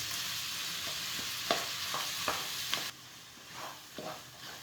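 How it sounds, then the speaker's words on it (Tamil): Tomatoes and cashews sauté in a pan for a paneer butter masala base, giving a steady close sizzle punctuated by a few sharp spoon taps and scrapes. The frying drops to a quieter hiss near the end. "இப்போ எல்லாத்தையும் சேர்த்து கொஞ்சம் வதக்கும். தக்காளி வதங்குற அளவுக்கு வதக்கும்."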